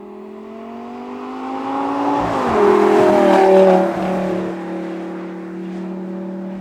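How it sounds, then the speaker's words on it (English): A Lamborghini Gallardo LP570-4 Superleggera Edizione Tecnica engine under way, its loud, steady drone rising in pitch as the car accelerates, peaking briefly, then settling back to a smooth cruising hum, with no talking. "my first proper drive in the Lamborghini Gallardo LP570-4 Superleggera Edizione Tecnica"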